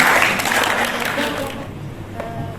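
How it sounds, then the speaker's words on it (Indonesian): A church congregation applauds a participant, a brief burst of clapping that starts loud and fades within about a second and a half, followed by quieter room sound and a voice. "tepuk tangannya untuk yang keempat"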